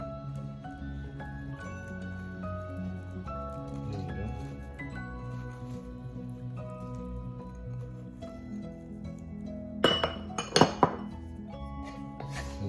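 Chicharron is mixed into pancit palabok noodles that already carry sauce, with soft squishing under a low hum and a cluster of sharp utensil clinks against a dish near the end.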